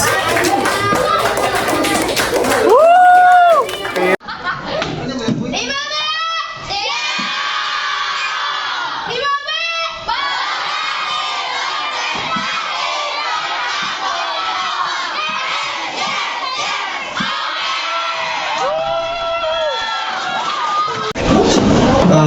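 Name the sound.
audience applause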